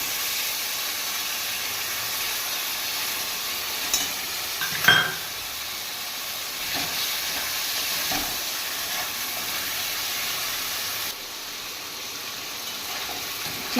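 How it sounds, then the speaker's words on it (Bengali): Chicken sizzles and fries in spice masala in a pan, a steady loud hiss throughout with a few soft stirring clinks near the start, close and without speech. "এবার আমি চিকেনটাকে এর ভেতরে দিয়ে দেবো।"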